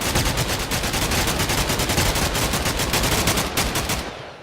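A gun in Minecraft's Flan's Mod firing in rapid, unbroken automatic bursts, loud and close, a fast machine-gun rattle running about four seconds before cutting off.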